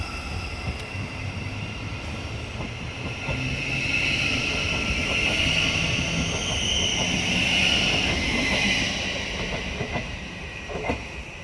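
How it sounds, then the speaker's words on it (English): A Class 717 electric train departs Hatfield station on a service to Welwyn Garden City, a loud rising and falling whine with a hissing roll of wheels on rails that builds, holds, then eases over several seconds. "departing we have our 717 service, working a service to Welwyn Garden City from Moorgate"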